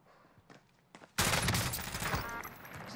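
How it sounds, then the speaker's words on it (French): Video game gunfire in a multiplayer shooter erupts suddenly after a quiet stretch, a loud dense volley of overlapping shots that keeps rattling on to the end. "Des tirs."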